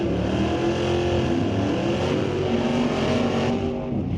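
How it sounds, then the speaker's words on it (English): A 1972 Ford Maverick Grabber drag car engine revs loudly and steadily at an NHRA drag race, a throaty roar holding close by for a few seconds. "Kind of a cool car. 72 Grabber Maverick."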